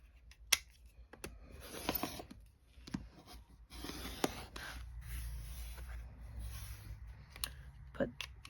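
Scissors trim the edges off pieced quilt fabric for an hourglass block, giving a few sharp snips and crisp clicks close by, with soft handling rustle between them.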